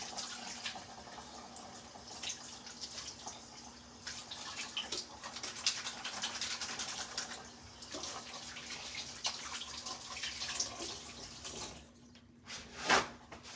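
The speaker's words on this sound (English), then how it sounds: "let me wash my hands really quick" A kitchen tap runs steadily as hands are washed under it, a continuous close splashing and hissing stream for most of the time, briefly stopping before a last gush, with no one speaking.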